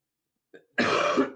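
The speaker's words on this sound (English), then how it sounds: "Cough, cough." A single short cough or throat clearing, close and loud, preceded by a faint brief sound.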